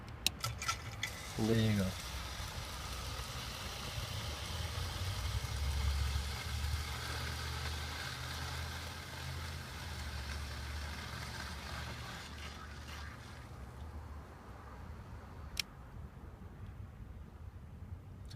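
Right-side fuel pump of a VW Touareg running during a 15-second flow test: a steady low hum and whir that holds for most of the stretch, then cuts off, with a brief voice near the end.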